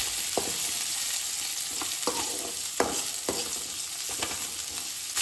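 Finely chopped onion frying in oil with fenugreek and urad dal for a Goan oyster xacuti, a constant hissing sizzle broken by several sharp spatula scrapes against the pan, near and steady, no talking.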